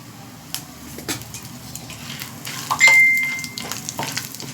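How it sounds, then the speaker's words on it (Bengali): Panch phoron five-spice seeds hit hot oil for tempering, giving a soft crackling sizzle under light clatter of a pan and utensil, with a sharper clink and brief hiss near the middle. "এবার একটু পাঁচ ফোড়ন দিয়ে মধ্যে তাহলে ফোড়নে"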